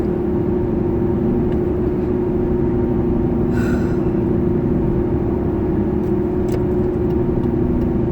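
Steady cabin noise inside a car on the move, a constant loud low rumble and hum of engine and road with no breaks, a faint brief tone and a few soft ticks passing over it.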